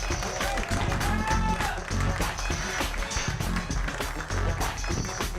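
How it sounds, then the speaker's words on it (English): Comedy-club audience applauds a comedian taking the stage on a Chicago stand-up show, dense continuous clapping with crowd noise and some voices across the whole stretch. "Let's get a big round of applause and a rouse of laughter for Samantha Berkman."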